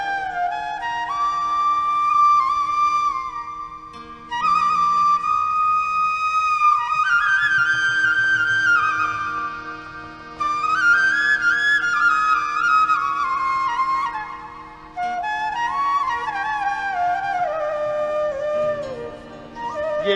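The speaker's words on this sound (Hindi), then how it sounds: "ये वंशी की आवाज कैसी लग रही है?" A bansuri flute plays a sustained, ornamented melody with gliding bends and held notes, clear and prominent in short phrases separated by brief pauses.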